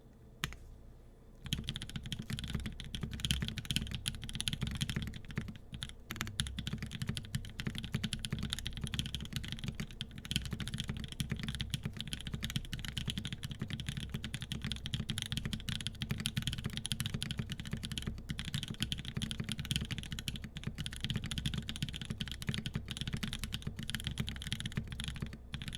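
Continuous typing on a Think 6.5 V2 mechanical keyboard fitted with Creamsicle switches and GMK white-on-black keycaps, a steady close stream of clacky keystrokes with low thock, no talking.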